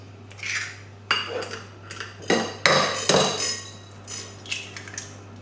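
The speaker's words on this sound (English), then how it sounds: "all we're gonna do is simply just crack our eggs" Eggs cracked one after another against a bowl for chocolate brownie batter, giving several sharp clinks and taps spread across the stretch, close and fairly clear, with no talking over them.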